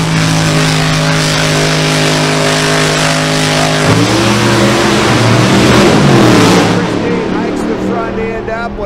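A drag racing car accelerates down the strip with a loud, sustained engine roar that shifts in pitch midway and then fades as it pulls away, while an announcer talks over it.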